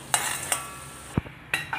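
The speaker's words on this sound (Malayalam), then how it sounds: "ഒരു ചീനച്ചട്ടി ചൂടായപ്പോൾ വെളിച്ചെണ്ണ ഒന്നും ഒഴിക്കണ്ട കേട്ടോ വെറും ഓട്ടിലിട്ട് നല്ലപോലെ വറുത്ത് മൊരിച്ചെടുക്കണം" Rice dry roasting in a hot cheenachatti with no coconut oil; a few sharp scraping stirs and clinks of a spatula against the pan, spaced irregularly, with faint crackling between them.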